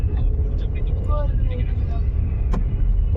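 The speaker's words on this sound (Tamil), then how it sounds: "என்னது வருது? கார்." A car approaches along a dark mountain road at night near Munnar, its engine and tyre rumble building steadily and close under an anxious voice talking in the vehicle.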